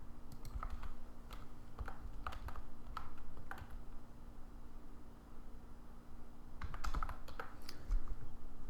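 Numbers tapped into a spreadsheet on a computer keyboard, quick clusters of close, crisp keystrokes separated by a long quiet gap and backed by a steady low hum.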